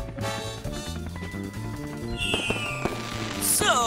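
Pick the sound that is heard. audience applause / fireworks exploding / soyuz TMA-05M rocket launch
fireworks exploding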